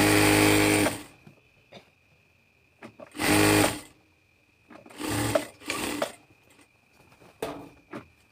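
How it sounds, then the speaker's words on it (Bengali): Sewing machine stitching a salwar in short bursts, several separate runs of rapid mechanical whirring broken by quiet pauses and light handling clicks. "অবশ্যই 1/2 ইঞ্চি দূরত্বে সেলাই করবেন সবসময়।"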